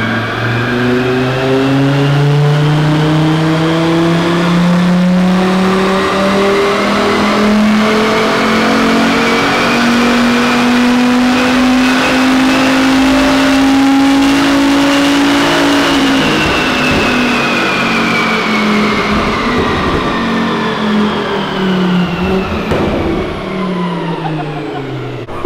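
Volvo V70R sleeper wagon on a dyno during a full power pull, its engine loud and close as the pitch climbs steadily for about fifteen seconds, then drops back as it winds down.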